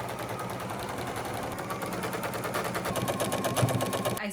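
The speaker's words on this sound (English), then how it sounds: "I'm gonna stitch all around here so that I can put the elastic in." A sewing machine stitches an elastic casing around a skirt waistband with a fast, even, close mechanical rattle that runs the whole time and rises slightly toward the end.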